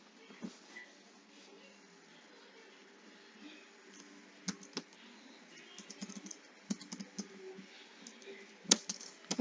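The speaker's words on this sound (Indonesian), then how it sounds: "Lalu kita ketikkan sama seperti tadi ns lookup" Someone types a command such as nslookup at a computer command prompt, producing faint, irregular keyboard clicks that grow busier toward the end, close by in a quiet room.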